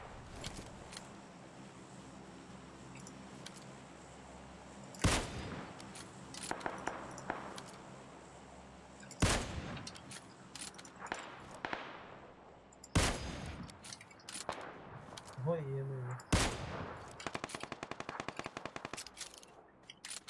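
Gunfire in the mobile shooter PUBG Lite on the Miramar desert map: several sharp, loud bursts of automatic fire spaced across the span, with quieter rattling shots and background game ambience between them.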